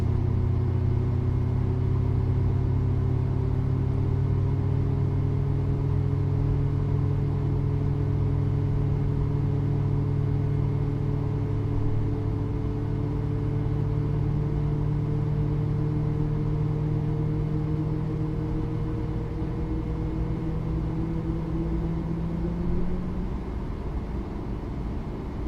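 Airliner jet engine spooling up at start in Microsoft Flight Simulator, a steady whining roar with slowly rising tones sustained for about twenty-five seconds, no talk over it.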